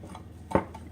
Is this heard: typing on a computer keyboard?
no